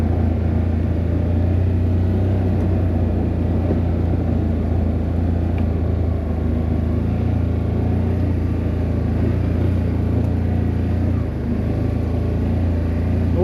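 A Gen 3 XMR quad ATV engine droning steadily while riding, a loud, close, continuous low rumble that holds nearly constant throughout, with no voices.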